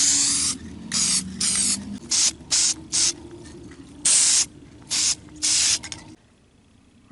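Hammered black spray paint sprayed in short repeated bursts onto a vehicle dash panel and passenger airbag cover, about eight close hissing blasts with brief pauses between them, ending in quiet.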